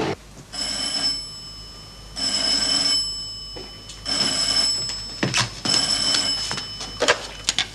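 An old landline telephone bell rings in an office of a Czechoslovak crime drama, three long loud rings with pauses between them, followed by clattering handling sounds as the receiver is picked up.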